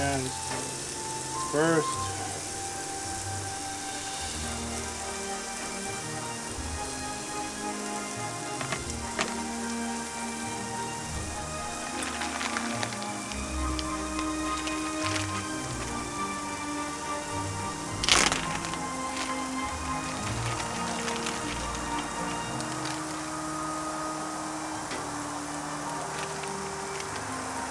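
New York strip steaks fry in a cast iron pan, a steady close crackling sizzle with occasional sharper pops, a brief voice heard over it.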